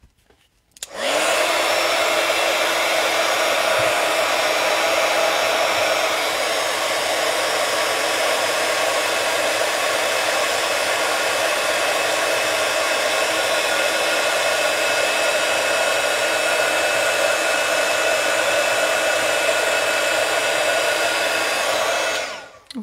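A heat tool blasts hot air to melt embossing powder on a seaside-themed stamped card, a loud, steady whooshing drone that holds unbroken for about twenty seconds before switching off, with no voices.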